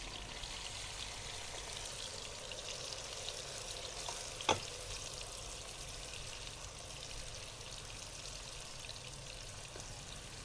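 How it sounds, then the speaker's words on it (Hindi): Marinated potatoes fry in hot oil for crispy aloo fry, a steady hissing sizzle at moderate distance with one brief sharp clink midway. "और अब इसके अंदर आपने डालना है जो आपने आपके आलू मैरिनेट हुए थे ना, वो अब डालना है।"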